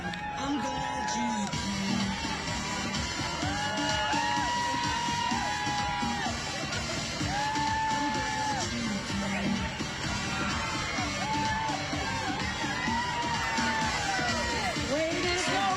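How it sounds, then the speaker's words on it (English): A crowd at a marathon cheering for runners, with many overlapping whoops, yells and shouts sustained across the clip, fairly loud and busy, mixed with some talk. "Do you hear those crowds? They are cheering for you."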